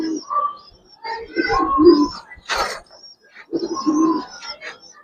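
Giribaz pigeons in a seller's loft coo in soft, rounded bursts, several birds calling close by in uneven phrases separated by brief pauses, with a sharp rustle midway.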